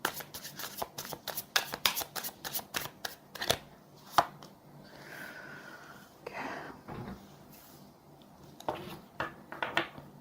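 Tarot cards shuffled in quick rhythmic bursts of crisp riffling and flicking, close and fairly quiet, with short pauses between runs and a faint murmur partway through.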